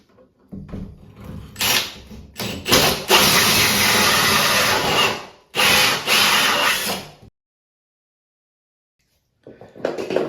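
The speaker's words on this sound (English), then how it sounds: "And we're gonna continue drilling this out." A close power drill with a hole saw grinds steadily through a door in long bursts, enlarging the knob hole, pausing briefly between runs, then stopping before a short restart at the end.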